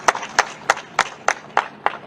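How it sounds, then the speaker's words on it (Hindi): Audience at a Women's Day event with Chief Minister Rekha Gupta claps in unison, seven sharp, evenly spaced claps about three per second, crisp and fairly close, with no talk. "तो एक बार जोरदार तालियां आप सभी के लिए, पूरी 40 की टीम के लिए"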